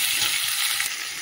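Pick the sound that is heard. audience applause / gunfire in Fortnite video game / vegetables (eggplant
vegetables (eggplant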